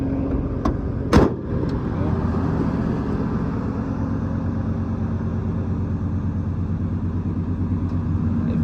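A 1987 GMC High Sierra 1500 4x4 pickup idles steadily with its A/C compressor running, a low continuous engine drone with a sharp click or clunk early on, close and fairly even throughout.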